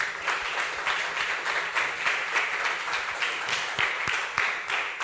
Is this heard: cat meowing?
no